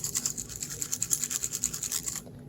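Small broken pieces of a destroyed hard drive rattling inside as it is shaken, a fast, rhythmic scratchy shuffle of about a dozen shakes that stops abruptly, close and fairly faint.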